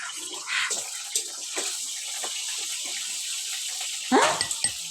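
Tap water running into a basin at home, a steady hiss for about four seconds before a louder splashing burst near the end.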